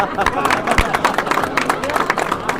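An audience applauds the producers at a film premiere show in a mall, dense steady clapping with crowd murmur and voices close by.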